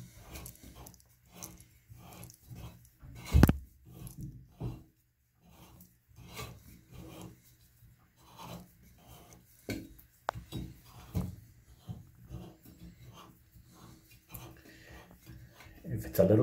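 A Pfister faucet handle is turned and pulled off the stem, giving quiet, close, intermittent rubbing and scraping with small clicks and knocks, one sharper bump among them.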